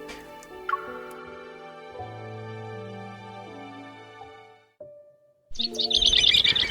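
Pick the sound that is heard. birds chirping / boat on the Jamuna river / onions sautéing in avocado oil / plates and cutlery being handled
birds chirping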